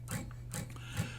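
Three short, dry percussive thumps from palm-muted downstrums across all six strings of a guitar, evenly spaced and close, with no ringing notes.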